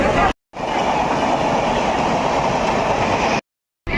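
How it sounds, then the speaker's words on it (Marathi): Constant loud rumble and rattle of a moving train from inside a general-class carriage, dense and steady, broken by two brief silent cuts. "बघा ट्रेनमध्ये आहोत आम्ही आणि आम्ही जनरल डब्बा चॉईस केलेला आहे"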